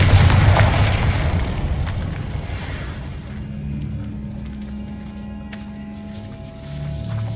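The Confringo fire spell explodes in the Hogwarts Legacy video game, a loud, deep booming blast that rumbles and slowly fades into a lingering low hum.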